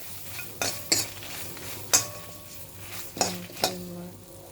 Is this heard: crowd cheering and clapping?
no